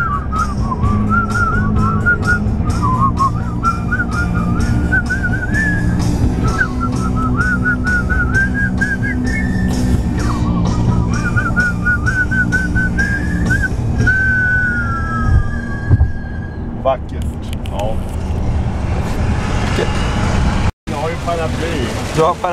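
A person whistles a wavering tune over the steady low rumble of a moving car, with road noise throughout and a brief dropout near the end.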